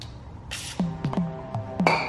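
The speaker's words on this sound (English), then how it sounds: "So I got some PB Blaster penetrant. I'm going to spray in here and let it do its work" Short hissing bursts of PB Blaster penetrant spray onto the wheel hub of a BMW X5 E70, several quick puffs close to the microphone, each with a metallic click from the can's nozzle.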